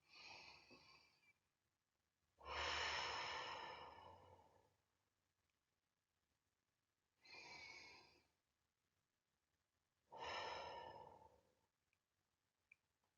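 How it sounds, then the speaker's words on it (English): Three deep, slow breaths drawn and released in a quiet room during a full-moon eclipse meditation, each a long airy inhale-exhale swell separated by silent pauses, the second breath the longest and fullest. "we're going to start with 3 deep breaths"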